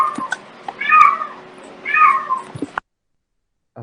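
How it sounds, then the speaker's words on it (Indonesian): A cat meows twice in a drawn-out, wavering voice, close and fairly loud, with small knocks around the cries and then near silence. "Pak Guru dengar ada suara kucing tadi"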